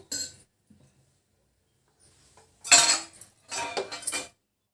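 A metal cooking pot set back down on a stovetop in a kitchen, with a couple of loud close clanks and metallic scraping and rattling, after faint earlier clinks.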